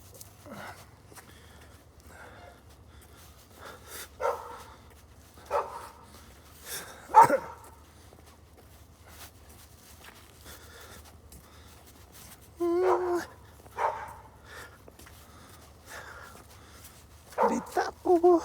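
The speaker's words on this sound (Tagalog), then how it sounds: "Ayan na, may aso." Outdoors on a cold winter walk in Canada, a dog barks in scattered single and double woofs, fairly close but not loud, while a person talks between the barks.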